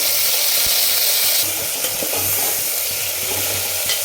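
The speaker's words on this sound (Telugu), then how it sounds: "వంకాయలు బాగా వేగాయి ఫ్రెండ్స్" Eggplant pieces frying in a pan with onion, green chilies and curry leaves, a loud continuous sizzle with occasional stirring scrapes throughout, close and without talk.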